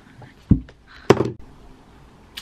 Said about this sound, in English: Oh, someone's on my door, guys.